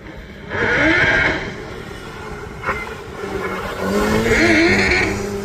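A race car engine revving at the Craigantlet hillclimb, heard from a distance, with two rising, high-pitched engine wails separated by a quieter stretch of steady mechanical drone.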